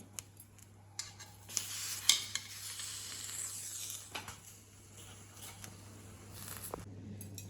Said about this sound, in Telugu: మళ్ళీ టొమాటోస్ కూడా అలానే కాల్చుకోవాలి